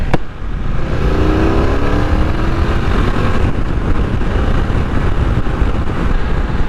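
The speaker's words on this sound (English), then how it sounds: "I'm even warming to the engine note now" BMW F900XR motorcycle engine droning steadily while riding, a loud continuous note under heavy wind roar, with a brief rising pitch sweep early on.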